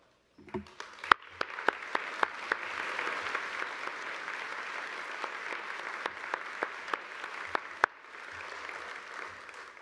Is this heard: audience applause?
yes